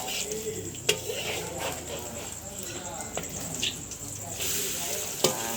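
Noodles fry in a pan with a steady sizzle, broken by a few sharp clinks of a utensil against the pan, close and moderately loud.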